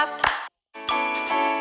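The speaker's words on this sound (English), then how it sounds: "Get ready to clap your hands." Hands clap along to the children's song 'If You're Happy and You Know It', a few sharp claps sounding over the bright tinkling music, with a brief silent gap between phrases.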